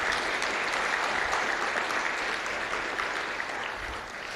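An audience at a programming-languages conference applauds, giving a broad, even patter of many hands at moderate level that holds steady and then eases off slightly near the end, with no one speaking.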